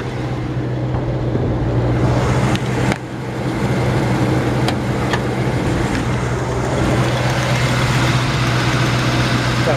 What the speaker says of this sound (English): Got a good running engine.